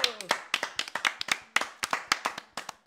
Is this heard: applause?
yes